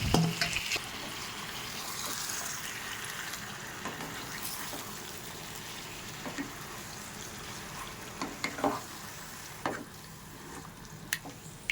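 Marinated chicken meat goes into a pan of cooked spice masala on a home stove, a faint steady sizzle with scattered clicks and stirring scrapes, quiet throughout and with no talk.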